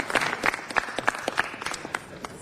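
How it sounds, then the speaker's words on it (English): Applause at a city council meeting honouring the construction firm of the year in Los Angeles: brisk scattered clapping from a modest crowd, fairly close, with a faint voice underneath. "Please, a round of applause for him"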